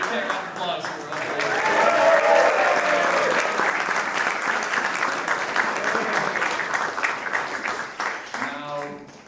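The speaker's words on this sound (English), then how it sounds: "Give that round of applause for us." An audience applauds after a card trick at a live magic performance, a broad burst of clapping that swells quickly and then slowly tapers, with a voice speaking briefly at the very end.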